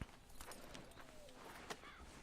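Horse hooves clop in the video game Red Dead Redemption 2, a soft uneven stream of hoof steps over faint ambient game sound, with light speech-like sounds in the mix.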